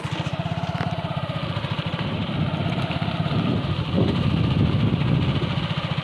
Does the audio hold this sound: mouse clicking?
no